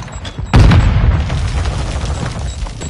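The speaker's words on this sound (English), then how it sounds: "Throwing stun grenade." In a military shooter video game, a stun grenade bursts with a sudden loud boom, followed by a ringing, decaying rumble for a couple of seconds.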